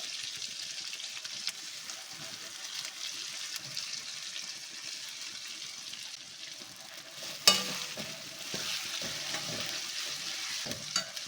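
Masala for oily brinjal (ennegai) frying and being stirred in oil, a steady soft sizzle with scraping stirs running throughout and one sharp clank of the utensil partway.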